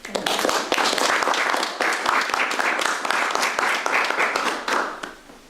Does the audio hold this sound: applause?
yes